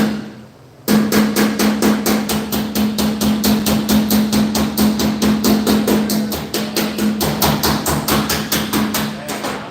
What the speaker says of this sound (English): I'm going to tap it with the hammer while it's hot